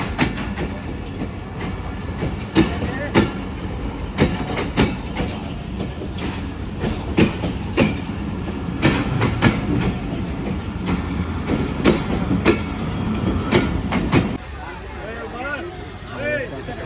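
A train stands at a station platform with rhythmic rail clatter and repeated sharp clanks over a busy rumble, while people talk nearby throughout; the mechanical noise drops away near the end.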